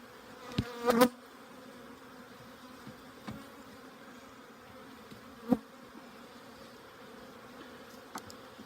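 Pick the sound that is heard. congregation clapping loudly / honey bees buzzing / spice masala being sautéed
honey bees buzzing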